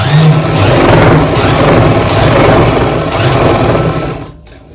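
A sewing machine stitches a piece of fabric in one steady, loud whirring run close by, slowing and stopping just before the end.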